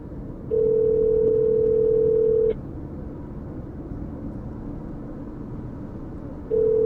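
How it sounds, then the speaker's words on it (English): A steady ringback tone on an outgoing phone call during a storm chase, loud and continuous, sounding twice with a long gap between, over constant road and vehicle noise. "I'll try to call him again."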